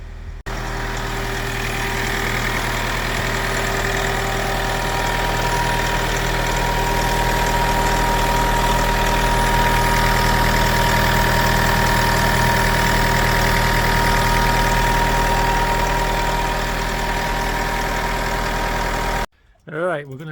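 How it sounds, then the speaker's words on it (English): An old third-generation Toyota RAV4 diesel idles close by with a steady, even rumble and a faint knocking tick, running continuously for about nineteen seconds before it cuts off abruptly into a brief rustle. "The engine does sound sweet"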